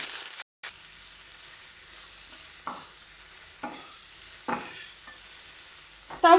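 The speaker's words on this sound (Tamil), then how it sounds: "இதையும் சேர்த்து வதக்கி எடுத்துடலாம்." Peeled pirandai (adamant creeper) is sautéed in a pan with a soft, constant sizzle, and a spatula stirs and scrapes it in several distinct strokes.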